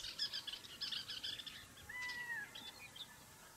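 Small birds chirp and call in quick bursts while chasing young hawks away from a nest somewhere in the Siberian wilderness, with a thin whistled call near the middle, all fairly faint against a steady outdoor background.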